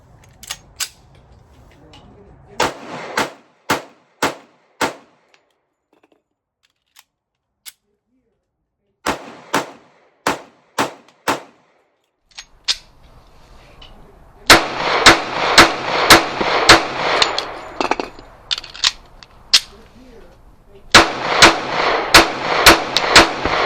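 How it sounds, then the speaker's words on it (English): M1911A1 .45 pistol fired in repeated strings, loud sharp close cracks in spaced bursts with short pauses between groups, some shots following rapidly. "showing you that I can fire this without my hands flying all over the place"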